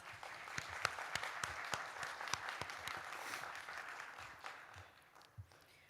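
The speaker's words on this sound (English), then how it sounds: "So let's give ourselves a big round of applause." A crowd at a college graduation ceremony applauds steadily, a dense wash of clapping with some sharper individual claps near by, fading out toward the end.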